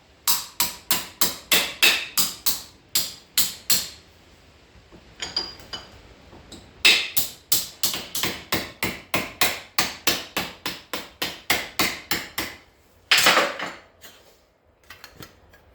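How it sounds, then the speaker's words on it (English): Rapid, loud, ringing strikes of a body hammer shaping sheet metal over a vise for a rusty door repair, in rhythmic bursts with brief pauses and a scraping moment near the end. "Again, I'm using the proper body hammer for it."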